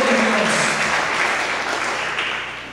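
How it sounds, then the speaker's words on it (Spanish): Church congregation applauding during a Spanish-language worship service, a dense, steady wash of many hands clapping that stays loud throughout and tapers slightly toward the end. "Cuando le dan un aplauso al Rey de Reyes y Señor de Señores"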